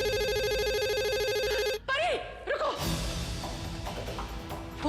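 A telephone rings with a steady electronic trill that cuts off abruptly, followed by a brief chirping sound and louder background noise.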